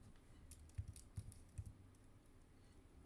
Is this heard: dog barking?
no